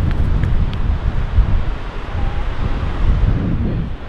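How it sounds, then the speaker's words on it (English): Large ocean waves break on the North Shore, a deep, continuous rumbling surge heavily roughened by wind buffeting the microphone. There is no talking, and the roar rises and falls gently. "I mean, look, the waves are firing."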